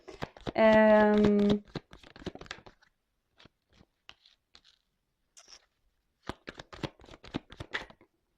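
Tarot cards are riffled in a quick burst of close, crisp rattling at the start, followed by sparse soft taps and card slides that stop and start.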